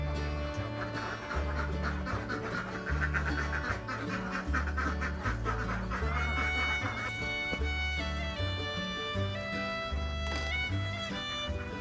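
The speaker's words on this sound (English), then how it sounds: "thousands of ducks move across the floor" A large flock of ducks, thousands of them, quacks in a farm pen. The steady quacking sits under loud background music and continues throughout.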